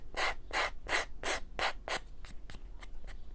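Sandpaper rubbed hard back and forth over a quilted frame, seven or eight quick rhythmic strokes close up, gritty and scraping, then fading into lighter, shorter strokes.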